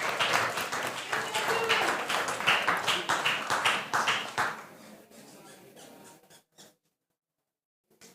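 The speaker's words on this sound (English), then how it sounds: "Round of applause." An audience at the Estonian Best Sommelier 2022 competition claps for the finalists, a loud round of applause that dies away after about five seconds and then goes quiet.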